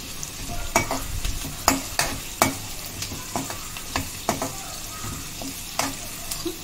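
Curry leaves frying in hot oil in a pan, crackling and sizzling with repeated sharp pops and spatula scrapes in an uneven rhythm, close up and fairly quiet, with no voices.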